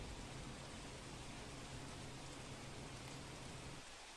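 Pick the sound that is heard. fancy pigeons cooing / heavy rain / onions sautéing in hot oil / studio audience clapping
heavy rain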